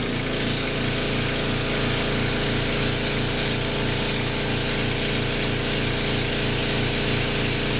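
An airbrush sprays white touch-up paint onto a Bimota motorcycle seat, giving a continuous, close, even hiss of air and paint with no pauses.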